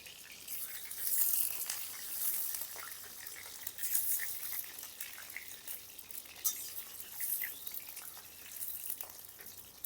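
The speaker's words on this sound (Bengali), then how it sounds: "তেল গরম হয়ে গেছে এবার আলুগুলো লাল করে ভেজে নেব" Potatoes frying in hot mustard oil in a wok over a stove, a continuous faint, airy sizzle with fine crackling spits rising and falling, heard close without any voices.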